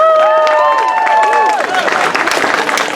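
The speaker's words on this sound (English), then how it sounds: "Give yourselves applause" Audience applause and cheering erupt after a children's sing-along of the ABC song at a fall theatre event, a dense wash of clapping with high excited voices and singing tones over it for the first half, settling into steady clapping.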